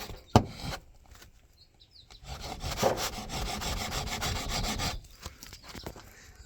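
A knife blade dragged and scraped across a hardened poor man's fiberglass surface of a homemade camper, giving a rough rasping rub that builds and holds for a few seconds, close and fairly quiet, after an initial sharp tap.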